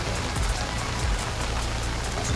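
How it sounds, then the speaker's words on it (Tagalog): Rain pours steadily in the morning, a dense, even hiss of drops striking surfaces close by, continuous and without breaks, with no voices over it. "Medyo maulan ngayon"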